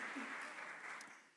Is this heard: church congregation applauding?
yes